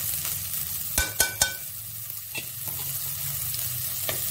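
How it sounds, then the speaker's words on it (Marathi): Rice sautéed in ghee in a pot for a festival kheer, giving a soft, steady sizzle with a few sharp spoon scrapes and knocks against the pot near the start. "तुपावर आपल्याला आता आपले तांदूळ आहेत ते परतून घ्यायचे"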